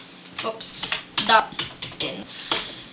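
Quick keystrokes on a computer keyboard while Java code is entered, a loose run of light clicks with one denser flurry in the middle, close and clear.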